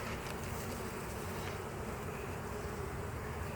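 Honey bees hum steadily in a continuous close swarm drone as a hive is opened for a February inspection, an even buzzing with no voices.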